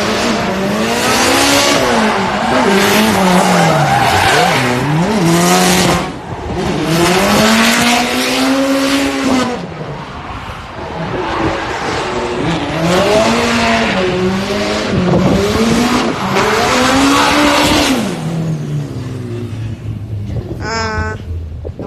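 Race cars take turns running a drift track, engines revving hard in repeated rising and falling bursts with tire squeal, each pass loud and close, separated by brief quieter gaps.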